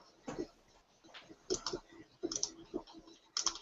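Computer mouse clicks in a design app while shapes are selected and welded, a few sharp close ticks spaced out over a few seconds, with a quiet voice speaking between them.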